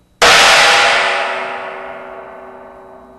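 A China boy cymbal, struck once alongside a 12-inch splash in a school band drum kit, gives a single loud, bright, trashy crash that rings and slowly fades over about three seconds, alone with no talking.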